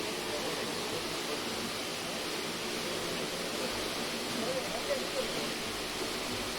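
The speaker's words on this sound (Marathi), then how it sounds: "मोटरही जोरात पाणी मारत आहे" A steady, forceful rush of water gushing without pause from a motor pump drawing from a well, a broad, constant hissing roar that stays even throughout.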